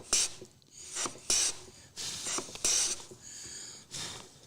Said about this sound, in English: I'll put this in and I'll start planing.